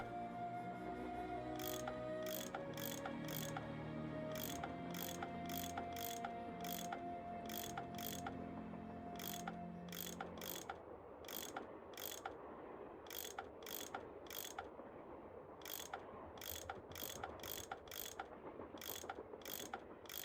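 A gear-driven bolt mechanism in the Nancy Drew: Last Train to Blue Moon Canyon game turns all its bolts at once. It makes a steady run of sharp, evenly spaced ratcheting clicks over a softer musical drone that fades midway.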